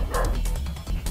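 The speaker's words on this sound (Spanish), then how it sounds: "el perro está ladrando" A dog barks several times in quick, sharp bursts, fairly close and loud, somewhere in a home while a video game is being played.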